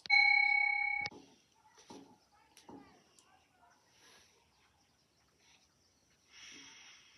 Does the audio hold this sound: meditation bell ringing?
yes